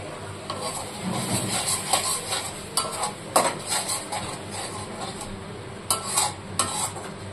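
Spice paste sizzling in a pan for a tangra fish curry, a steady close hiss broken by repeated scraping and clinking of a utensil stirring against the pan.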